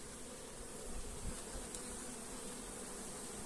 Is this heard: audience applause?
no